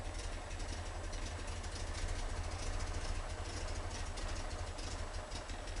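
A 1973 VW Super Beetle with a 1745cc engine, Dellorto FRD 34 carburetors and Mofoco 041 heads idles warm and steady, a continuous low rumble with even ticking, fairly faint and heard alone.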